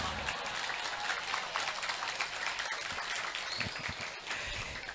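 Applause from an audience at an Islamic sholawatan religious gathering, with a steady, dense wash of clapping that holds through the clip at a moderate distance.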